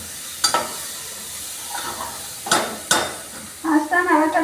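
Sharp spoon scrapes and clinks against a pan as a yam curry with onion, garlic, ginger and tomato fries over high heat, a soft sizzle between a few distinct stirs, close up.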